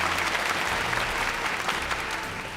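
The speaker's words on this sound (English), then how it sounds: "Another big round of applause for all the players who played their best to the moment on the stage" Big audience applause at the Epic Seven World Arena Championship 2025 esports finals, a dense steady roar of many hands clapping that fills the hall without pause and eases slightly toward the end.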